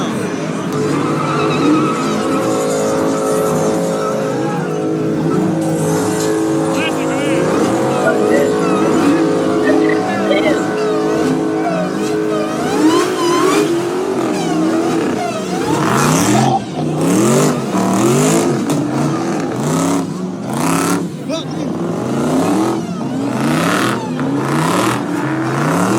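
Demon-swapped Chrysler 300 engine revving loudly and continuously in a busy pit area, with rising and falling pitch sweeps and tire noise, while voices shout nearby.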